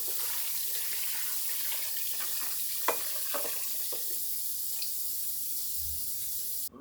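Tap water pours steadily into a pot of dried chilies for taco al pastor, a continuous close rushing hiss with a few small clunks, ending abruptly as the flow is shut off.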